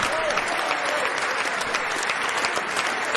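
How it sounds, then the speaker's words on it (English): Continuous, dense applause from a large audience in a chamber as a presidential address begins, steady and loud for the whole few seconds with faint voices mixed in beneath the clapping. "Everybody clap."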